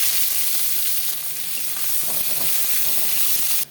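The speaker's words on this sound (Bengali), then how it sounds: "পেঁয়াজটা ভাজা হয়ে গেছে" Chopped onions frying in mustard oil with dried red chilies, bay leaves and whole cumin: a loud, dense, close sizzle with a few stirring scrapes, cutting off abruptly at the end.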